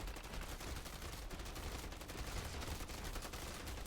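Dense, continuous automatic gunfire from a video game firefight against a huge Mega Abomination enemy, steady loud rattling bursts with no pauses and no voices.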